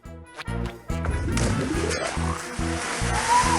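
A red water balloon bursts with a sharp smack followed by a rushing splash of water, set against rhythmic cartoon music that carries on beneath the burst.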